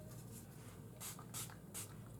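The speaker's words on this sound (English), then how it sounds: "Should I spray it on my hair?" A coconut-scented hairspray mister gives three short separate sprays, each a crisp breathy hiss, close but quiet against a low background hum, with no talk.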